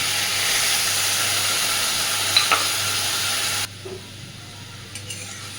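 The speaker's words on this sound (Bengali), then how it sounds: "এবার দিয়ে দেবো পরিমাণ মতো জল" Spice paste fried in oil for a bhola fish curry hisses and sizzles loudly in the pan, then the sound drops sharply partway through as water goes in, leaving a softer, steady simmering hiss.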